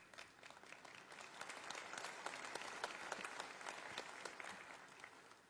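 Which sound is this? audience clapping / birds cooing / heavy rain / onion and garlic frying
audience clapping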